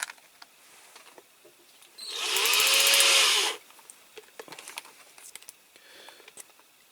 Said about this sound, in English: I'm going to have to put the small drill bit back in my drill